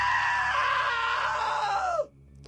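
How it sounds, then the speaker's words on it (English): A long, loud scream in the video game What Remains of Edith Finch rises and wavers for about two seconds, then drops off sharply and cuts to near silence. "Now that was a great scream."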